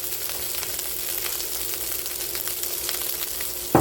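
Bacon, brussels sprouts and rice fry in a hot pan, giving a soft, steady crackling sizzle that runs throughout, followed by a brief clatter at the end, with no talk.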